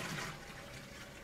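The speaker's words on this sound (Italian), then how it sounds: "Tira lo sciacquone." A toilet flushing in the video game Mafia 2, a brief, steady rush of water heard close and alone.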